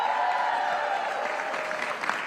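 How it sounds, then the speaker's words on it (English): Audience applause for a speaker during a political event covered on an evening news broadcast, a brief steady burst of clapping heard at moderate distance that tapers slightly toward the end. "So give her a big round of applause."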